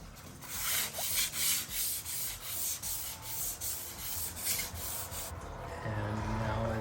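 Rhythmic hand sanding of a Toyota MR2 Turbo lid with 600-grit sandpaper, steady back-and-forth rubbing strokes close by with even pacing and no talk.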